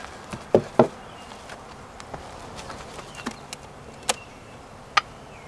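Honey bees buzzing around hive boxes being taken down, a faint, steady drone punctuated by several sharp knocks and clicks from handling the boxes.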